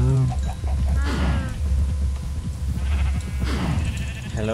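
Several sheep in Minecraft bleat in short wavering cries, close by, over a low rumbling background.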